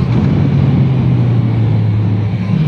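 Honda CBR650R 2019 motorcycle engine under hard braking, a steady loud droning engine note with strong rushing wind noise throughout, close and continuous with no talk.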